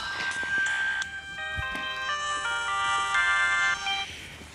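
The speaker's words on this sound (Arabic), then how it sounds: "ايه تليفوني بيرن" A mobile phone ringtone plays a bright, melodic electronic tune with repeating note phrases, loud and continuous for several seconds in a home scene from an Egyptian film.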